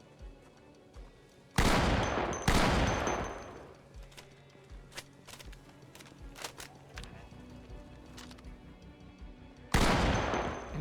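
Shotgun firing slugs in Project Zomboid, two loud close blasts early and a third near the end, with scattered thuds and clicks between and a voice speaking briefly.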